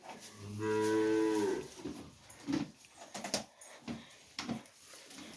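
A cow lets out one long, clear moo near the start while tied up at a home, followed by quieter shuffling and soft animal noises nearby.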